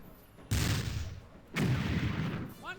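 Two heavy bursts of gunfire from units in Battle Academy WW1, each starting with a sharp loud onset and then fading into a rumbling tail, about a second apart, with a short whistling sound at the end.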